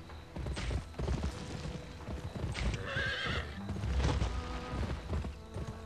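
A horse in the western shooter video game Gun gallops with steady clip-clop hoofbeats and lets out a clear neigh midway, all close and loud over busy game noise.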